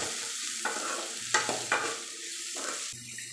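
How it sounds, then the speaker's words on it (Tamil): Onion, ginger and garlic sautéing in a pan, a steady oily sizzle broken by several scraping stirs of a spatula, close and moderately loud with no voices. "கலர் மாறுற வரைக்கும் நம்ம நல்லா வதக்கிக்கலாம்"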